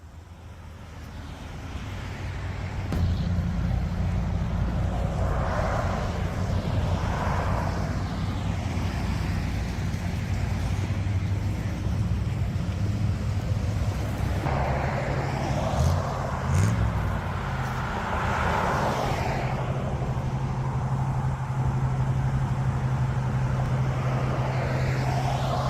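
A car pulls away and keeps driving, its steady engine and road noise rumbling loud and continuous for about twenty seconds with no talking.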